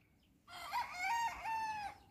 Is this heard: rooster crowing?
yes